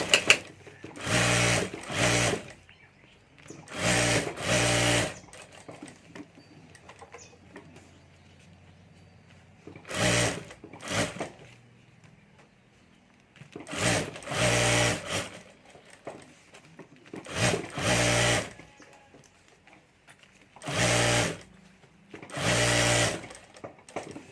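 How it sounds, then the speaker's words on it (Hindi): A sewing machine stitches the lining of a handmade handbag in repeated short, loud whirring bursts, some doubled, separated by quiet pauses with soft handling noises. "तो यहाँ ऊपर मैं सिलाई कर देता हूँ।"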